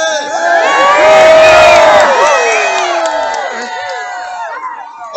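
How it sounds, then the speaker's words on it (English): A crowd cheers and whoops loudly at a Christmas lights event on Oak Road in Walnut Creek, with excited children's shouts mixed in; the cheering swells in the first two seconds, then slowly fades while staying dense. "I can't hear you guys cheer. Let's get excited."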